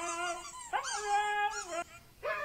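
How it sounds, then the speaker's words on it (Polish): A fearful dog whimpers and howls in drawn-out, wavering cries, three or four rising and falling calls separated by short pauses, close and clear. "A to jest taki bojaźliwy pies."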